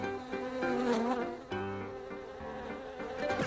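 Flies buzz in a continuous droning hum that wavers in pitch as they move about, close and steady, with no talking.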